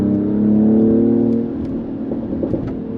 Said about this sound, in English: There you got a little crackle and pops there.